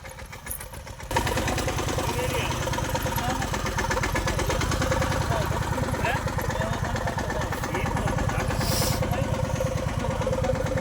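Tractor engine running steadily in a field during wheat sowing, a loud close chugging idle that starts abruptly after a quiet second and holds a constant rhythmic drone, with occasional faint voices in the background.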